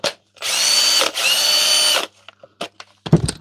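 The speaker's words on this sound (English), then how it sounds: "Let's try it on a drill." A Bosch cordless power drill whirs in two steady bursts up close, each about a second long, followed by a few clicks and handling knocks.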